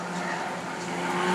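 Race car on a qualifying lap at New Smyrna, a loud sustained engine roar with tire noise, steady and close throughout.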